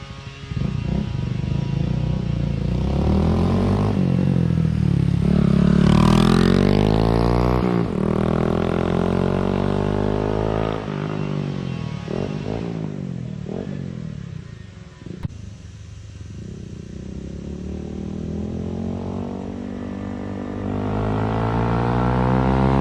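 A 2020 Honda Grom motorcycle with its spark arrestor removed revs loudly several times, the engine note rising and falling, then passes by with a continuous close, raspy exhaust drone and no talking.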